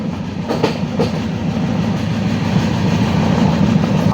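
A crowded passenger train travelling from Kottayam via Alappuzha rumbles steadily along the rails, with a continuous low roar and faint rhythmic clatter of the wheels, heard from on board.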